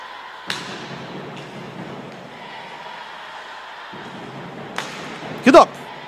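Powerful puck shot during a Ukrainian Hockey League ice hockey game between Donbass and Bely Bars: a sharp stick crack and thwack over a hollow arena din, followed by a quick double impact near the end, while a commentator talks.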